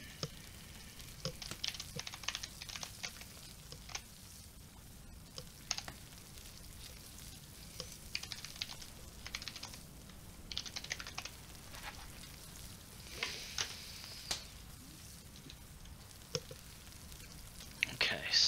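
Food cooks over a campfire in the survival game Stranded Deep, a faint soft crackle and sizzle running steadily with scattered small clicks and ticks.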